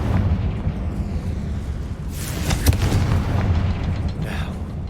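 A Confringo fire spell bursts with a rumbling boom in Hogwarts Legacy on PS5, a broad blast rising about midway through a steady low game rumble.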